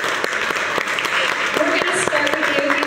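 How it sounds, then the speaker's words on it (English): An audience at a candidate forum gives a short round of applause, brisk mixed clapping over about three seconds with a voice speaking over it. "Can we give him a round of applause for the ducky?"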